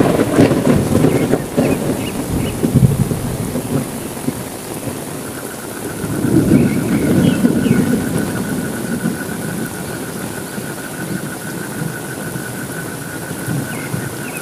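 Steady rain pours at night over a low rumble of thunder that swells midway and fades, with a faint continuous tone running behind the downpour.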